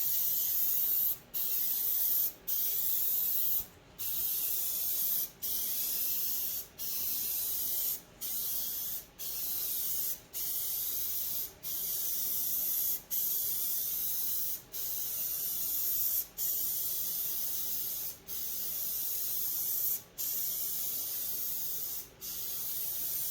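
Grey primer is sprayed in light coats onto a car's rear quarter panel, with the spray gun hissing steadily in repeated bursts of one to two seconds, each separated by a brief pause as the trigger is released.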